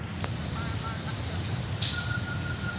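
A Thai express passenger train bound for Ratchaburi rolls past in the evening with a steady, close, low rumble and a brief hiss partway through, while someone talks over it.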